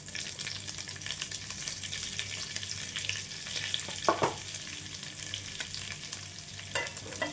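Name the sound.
curry leaves and chana dal spluttering while frying in oil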